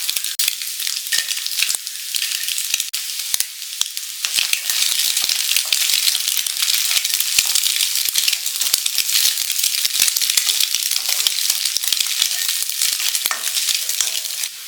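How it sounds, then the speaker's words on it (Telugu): Chicken pieces fry loudly in a pan for chicken fried rice, a dense crackling sizzle with sharp pops that runs steadily throughout, close and with no voices. "ఈ విధంగా ఫ్రై అవనిచ్చి మనము చికెన్ ముక్కలు ఇందులో యాడ్ చేసుకుందామండి."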